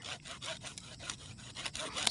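Small hand saw cutting wood in a rural backyard, with quick, rhythmic back-and-forth rasping strokes, close and fairly loud, for about two seconds.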